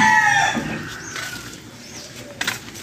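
A rooster's crow trails off at the start, then chickens cluck softly in the background, with a brief sharper cluck near the end.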